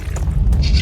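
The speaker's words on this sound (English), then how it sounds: "Exploding again?" Explosion in the video game Blade and Sorcery: a single deep, rumbling boom that fills the short moment, loud and close, with a hissing, debris-like tail near the end.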